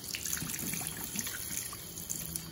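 Tap water running steadily into a sink while a dental impression is rinsed, a soft continuous splashing trickle, faint and close, with no talking.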